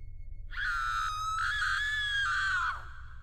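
A woman in an animated horror story lets out a single shrill, sustained scream lasting about two seconds, loud and close, over a faint low hum, then cutting off abruptly.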